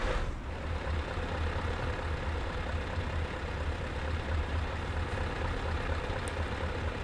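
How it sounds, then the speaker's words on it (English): A truck engine in Euro Truck Simulator 2 drones as a steady low rumble, constant and moderately loud throughout with no talking. "You can really hear the engine here."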